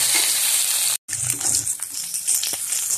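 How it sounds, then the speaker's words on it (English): Steady sizzling of onions, tomato and dried coconut frying in a pan for a banana curry masala, a constant hiss with small crackles and one brief cut to silence. "fry for some time."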